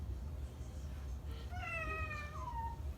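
A pet cat gives one clear, wavering meow midway through, moderately close over low room rumble and soft background noise.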